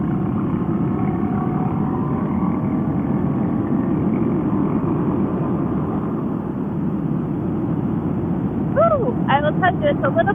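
Steady wind buffeting a microphone while riding a motorcycle on an open road, a continuous low roar throughout, with a brief higher whine near the end.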